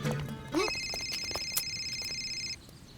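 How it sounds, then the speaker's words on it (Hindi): A telephone rings in a Hindi-dubbed South Indian action movie, a clear electronic ring tone sounding steadily for about two seconds after a brief swell of background music, with faint ambient noise underneath. "सर का फोन।"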